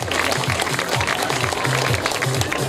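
Applause at a Miss Trans pageant in Abruzzo, dense close clapping throughout with a thumping beat of music underneath.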